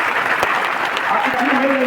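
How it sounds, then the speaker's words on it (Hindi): An audience at a speaking program in Deoghar applauds, a dense wash of clapping with a speaking voice rising over it. "उसके लिए मुझे सिर्फ और सिर्फ चाहिए आपकी तालियां, आपकी तालियां"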